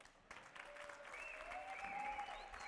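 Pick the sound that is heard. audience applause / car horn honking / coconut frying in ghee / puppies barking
audience applause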